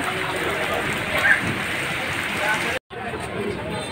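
Steady heavy rain hisses on surfaces at an outdoor pigeon market in Hasnabad, Keraniganj, a dense continuous wash of noise with a brief drop-out near the end.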